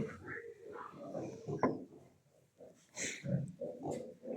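Piglets grunting and squealing up close, a cluster of short snuffly oinks with a higher squeal midway, faint and intermittent.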